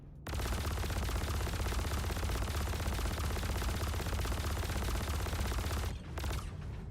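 A continuous stream of loud automatic gunfire in a video game, sustained for several seconds with a rapid, steady rhythm, then cutting off briefly before a short final burst.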